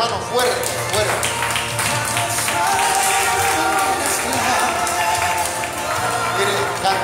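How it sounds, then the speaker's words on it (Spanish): A church congregation claps hard for the Lord, a steady, loud wall of many hands sustained throughout under an ongoing voice and musical tones. "Den un aplauso al Señor, hermano, fuerte, fuerte."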